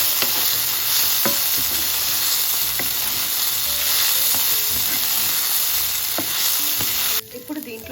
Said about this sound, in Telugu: ఇప్పుడు దీన్ని బాగా మిక్స్ చేసేసేయండి.